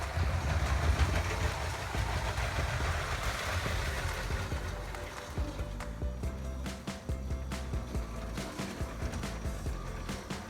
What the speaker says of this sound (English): take the passenger train for a loop around the city